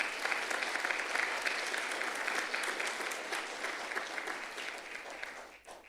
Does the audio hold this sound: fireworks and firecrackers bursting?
no